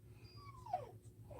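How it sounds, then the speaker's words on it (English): A dog cries and whimpers on the far side of a closed door, with thin, high, drawn-out whines that rise and fall. The sound is faint and distant over a low steady hum. "My dog is crying outside my door because he can't get in here to me right now."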